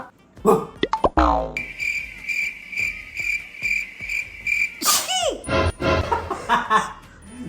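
Someone sneezes sharply a few times amid playful squeaky, boing-like sound effects and a long chirping tone, with short bursts of laughter-like voices around it.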